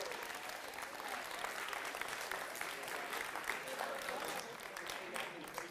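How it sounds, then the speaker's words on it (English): Sustained applause from an audience at a business talk on gamification, dense and steady throughout with no pauses, filling the room evenly for the whole stretch. "big round of applause for your green champion"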